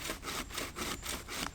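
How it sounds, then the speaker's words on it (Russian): Homemade bow saw cutting through a damp log outdoors in wet woods, heard as a close, loud rasping with steady back-and-forth strokes about every quarter second, alone without talk. "Да, она практически не пилит."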